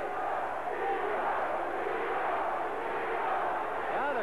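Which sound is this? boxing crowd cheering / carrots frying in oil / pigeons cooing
boxing crowd cheering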